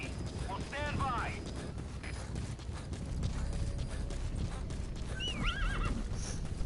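D-Horse, a horse in Metal Gear Solid V, whinnies twice, with a faint clip-clop of hooves and mechanical creaks in between, fairly quiet against a steady ambient game background.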